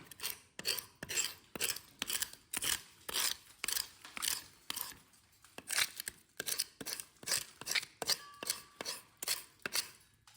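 Rhythmic scraping of a surface during château renovation work, steady back-and-forth rasping strokes repeated close by with no talking.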